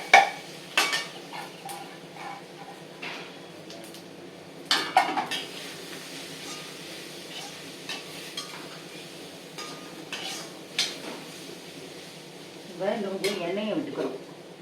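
Mashed raw plantain fries in a pan with a low sizzle, punctuated by spatula scrapes and metallic clinks against the pan at irregular intervals, close and fairly quiet.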